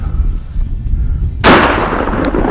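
Remington 870 12-gauge shotgun fired at a target, a single loud close blast about halfway through, followed by a decaying echo over quiet background.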